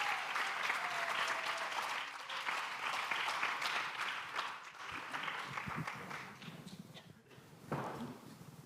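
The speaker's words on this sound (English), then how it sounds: "So please, massive round of applause for our panel." A large audience at an innovation summit applauds a discussion panel, with dense, sustained clapping that thins into scattered claps and a final brief swell.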